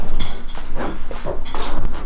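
A dog in a workshop gives a few quick, close, loud yips and barks, mixed with whimpering sounds over a steady background hum.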